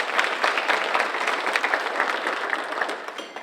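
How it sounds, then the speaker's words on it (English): Banquet audience applauding steadily, a dense wash of many hands clapping close and loud that holds for a few seconds before tapering slightly at the end. "Let's be sure to give them another round of applause."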